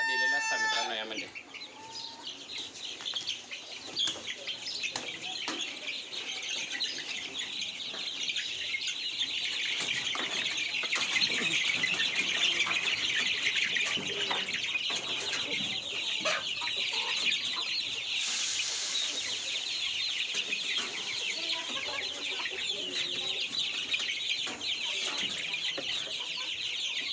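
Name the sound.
native village chickens clucking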